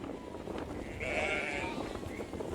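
Sheep in a large nomadic flock on the grasslands of China bleat in a long, wavering call over constant outdoor background noise.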